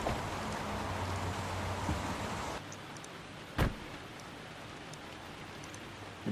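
Rain falling outdoors beside a car, a steady close hiss that drops to a softer wash partway through, with a single dull thump.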